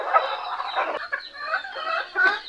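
Frizzle hens and a rooster cluck and chatter close by in a busy flock, with short overlapping calls running throughout.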